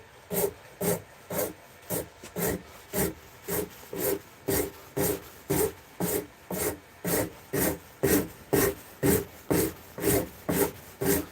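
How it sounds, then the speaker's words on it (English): A rasp files wood while a spoon is being carved, in a steady rhythm of about fifteen scraping strokes with short pauses between them, close and clear with no talk. "But I quite like the raspy process."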